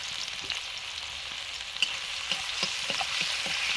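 Chowmein frying in refined oil with garlic, ginger and green chili sizzles steadily up close, with occasional light clinks of stirring.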